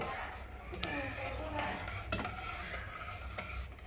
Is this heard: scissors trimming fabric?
no